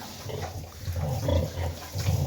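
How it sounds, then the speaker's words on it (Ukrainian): A sow grunts in repeated low, rough bursts with a few brief squeals, close by in a farm pen, moderately quiet with no talk. "Так що така свинка неправильного характеру."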